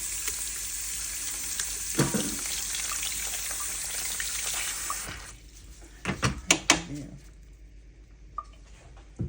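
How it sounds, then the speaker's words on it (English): Running tap water pours in a steady hiss over a cut plantain for about five seconds, then stops, followed by a few scattered clunks and knocks. "We slit it, and then we let the water run right through it"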